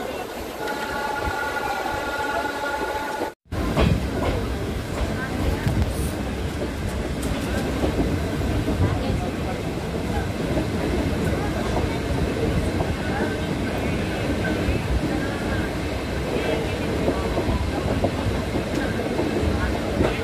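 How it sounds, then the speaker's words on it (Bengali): The Siliguri–Malbazar DEMU train runs along its route with a loud, steady rumble and rattle of wheels and carriages throughout, broken only by a brief near-silent dropout early on. "এই জায়গাটায় হঠাৎ করে ট্রেনটা স্লো হয়ে উঠলো।"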